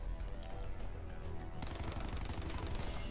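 Gunfire in the video game Black Ops 4: rapid automatic shots rattling in a dense, continuous stream at low level, with no talking.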